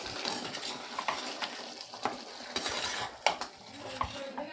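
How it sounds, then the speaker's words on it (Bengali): A prawn and potato curry being stirred in a pan, with quiet repeated scrapes and knocks of a spoon over a low background sizzle, close and fairly soft. "দিয়ে আবারও তরকারিটাকে একটু নেড়ে দেবো"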